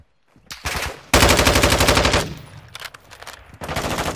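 Rapid automatic gunfire in the Call of Duty Warzone 2.0 video game: a short burst followed by a long, loud sustained stream of shots, then scattered shots and another burst, close and dominant with no talk over it.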